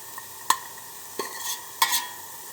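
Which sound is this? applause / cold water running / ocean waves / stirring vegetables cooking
stirring vegetables cooking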